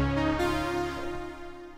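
A Yamaha Montage M synthesizer playing the Poly Dreams patch, a rich sustained chord with dense harmonics, shifting once early on and slowly fading.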